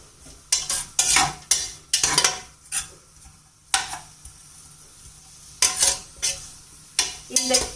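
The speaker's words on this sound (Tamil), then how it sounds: "எங்க கீ வந்து ஹீட் ஆனதுக்கு அப்புறம் இருக்கிற சவுண்ட்" Hot ghee sizzles in a pan beneath repeated scraping and clinking of a metal utensil, in irregular bursts, close by.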